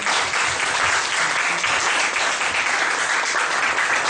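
A church congregation breaks into dense, steady applause that carries on without pause, filling the room loudly from start to finish.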